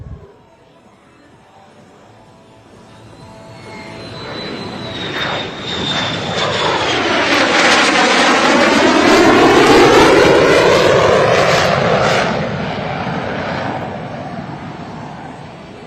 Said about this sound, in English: the F-35 is the most lethal multi-role fighter jet in the world